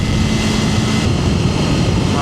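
A 2025 BMW S1000RR sport bike being ridden, its engine a loud, steady drone mixed with heavy wind rush close to the rider.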